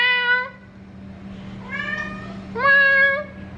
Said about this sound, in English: He's so loud the whole day. He's talking like meow, meow, meow